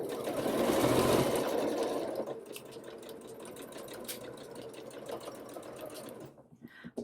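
Sewing machine stitching the waistband of a doll dress, running steadily at close range with a louder burst at the start, then a continuous mechanical whir that stops abruptly near the end.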